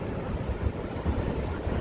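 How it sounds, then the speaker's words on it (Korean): Steady broadband wash of surf with low rumbling swells, continuous and fairly loud, waves rolling onto a sandy beach in Vietnam with some wind. "파도 치는 거 봐."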